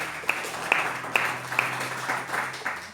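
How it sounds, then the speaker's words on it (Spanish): Scattered applause in a church gathering, a handful of sharp, evenly spaced claps standing out over a steady hum, fairly close and moderately loud. "y este aplauso es para ti"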